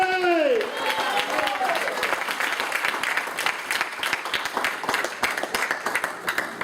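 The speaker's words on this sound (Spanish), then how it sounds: "Dale un aplauso a Cristo" A congregation at a youth church service breaks into applause right after a voice stops speaking, a broad, sustained wash of many hands clapping with scattered crowd noise, steady and fairly loud throughout.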